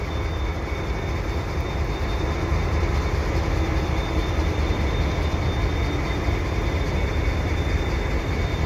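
CSX freight train arriving at Dorval, led by SD40-3 locomotives with classic SD40-2 styling, passing close by as a steady, loud rumble of wheels and engines that holds level throughout.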